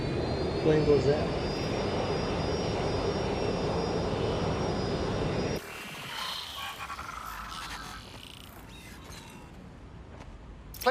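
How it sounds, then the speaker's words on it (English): Plane in the game Watch Dogs: Legion, its engine roaring steadily for several seconds before cutting down to a quieter, fading hum as it flies off, with a voice talking over it. "Plane goes out."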